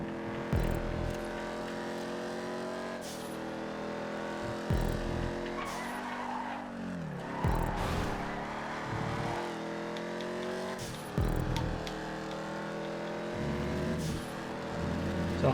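Race cars in GTA 5 roar and overtake one another, with a steady engine drone, rising and falling revs and repeated tire skids and squeals through the race.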